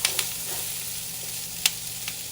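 Bell peppers and crispy pork stir-fried in a pan give a constant close sizzle, broken by a few sharp clicks of a utensil against the pan, with no talking.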